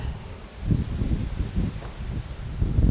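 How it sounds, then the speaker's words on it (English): Gusty wind buffets the microphone on an open hillside during gold prospecting, low rumbling surges rising and falling irregularly with no voices. "It is windy."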